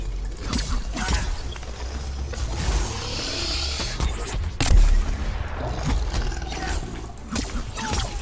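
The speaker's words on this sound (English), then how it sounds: "you see what I mean about the spike mortars traveling faster" Deadeye Quillshot spike mortars fire in a monster-hunting video game, giving repeated sharp launches and impacts over a roaring creature and rumbling in-game noise.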